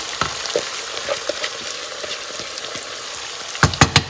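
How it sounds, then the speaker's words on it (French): Onions, about ten of them chopped, sautéing gently in a pan, a steady soft sizzle with occasional stirring clicks and a few sharper utensil taps near the end, no voices. "J'ai coupé à peu près une dizaine d'oignons. Donc, je vais laisser revenir gentiment."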